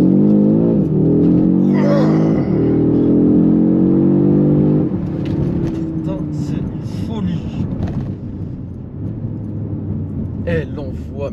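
Audi RS3-R ABT tuned to 500 hp accelerates hard from inside the cabin, its engine note climbing through the revs and then dropping back, with someone talking over it throughout.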